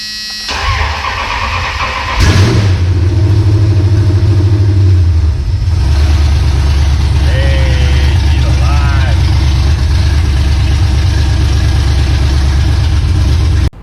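A Gen III Hemi V8 running Holley Terminator X EFI catches on its first start with a loud burst, then settles into a steady, low, rumbling idle close by, with faint higher squeaks over it.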